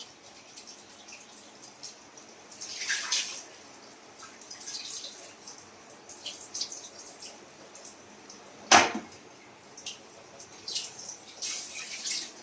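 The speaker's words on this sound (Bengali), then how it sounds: "ইলিশ মাছের মাথাটা ধুচ্ছি।" A hilsa fish head is rinsed lightly with water in a home kitchen. Soft, sporadic splashes and drips sound close and quiet, with one sharper splash near the end.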